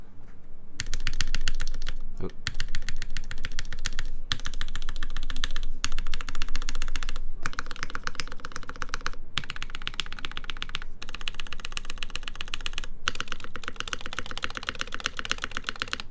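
Rapid, steady typing on a gaff.60 HHKB-layout mechanical keyboard with a rattling stabilizer, dense clacking keystrokes running nearly continuously with brief pauses, close and clear.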